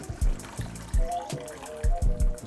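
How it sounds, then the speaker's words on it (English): Water poured into a pan of simmering marinara-style pasta sauce with ground beef, heard as a few splashy, bubbling gulps and bursts spaced unevenly, close by. "Add some water."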